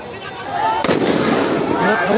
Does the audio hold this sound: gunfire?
yes